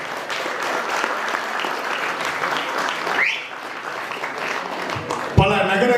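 Audience applause at a school anniversary celebration, a steady crowd clapping sustained over several seconds, dipping briefly midway, then cut by a sharp thump and louder, different sound at the end.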